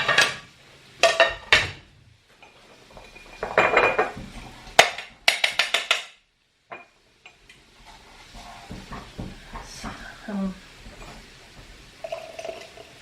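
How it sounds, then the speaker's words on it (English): Homemade chicken stock is strained to separate meat and bones, with clanking pots, scraping metal utensils and knocks in quick bursts, then a quieter stretch of soft liquid pouring and small taps. "I'm straining out all of the extra meat, the bones"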